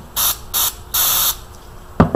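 Standard carb and choke cleaner sprayed from an aerosol can onto a rag in three short hissing bursts, loud and close, while cleaning head mating surfaces on a Ford engine, followed by a brief clunk.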